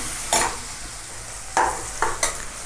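Onions frying in a pan for a Bengali katla fish curry, heard as a quiet background sizzle broken by four sharp stirring scrapes at irregular intervals, with no voices.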